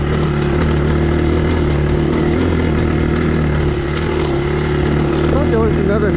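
A motorcycle rides across a road, its engine droning loudly and continuously up close with a steady low rumble.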